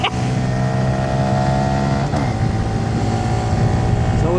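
A 2026 Honda Grom MSX125 motorcycle rides on the German Autobahn, its small engine droning in a steady, loud hum with wind noise, briefly dipping in pitch midway as the rider shifts.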